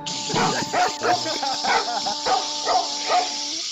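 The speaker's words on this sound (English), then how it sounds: "Oh, I hear dogs." Dogs bark in a series of rapid, loud, close yips over a steady electronic tone, with rhythmic repeated pulses and no clear speech.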